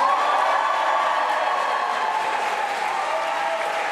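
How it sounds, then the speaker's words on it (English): Steady applause fills a UK general election count as newly elected MP Ian Lavery keeps the Blyth and Ashington seat, a dense, continuous wash of clapping from the crowd with no break throughout. "Huge round of applause for Ian Lavery there"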